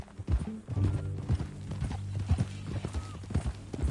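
Horse hooves clip-clop in a steady walking rhythm in the video game Red Dead Redemption 2, close and fairly loud, with faint voices murmuring underneath.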